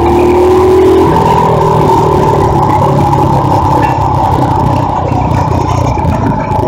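A small mini bike engine drones loud and steady while riding over bumpy ground, with a continuous roar and rough, scraping texture throughout.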